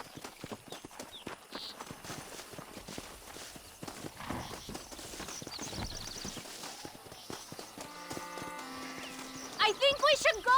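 Horses pull a stagecoach in Red Dead Redemption, their steady clip-clop of hooves and creaking wagon carrying on under spoken dialogue, with music swelling near the end.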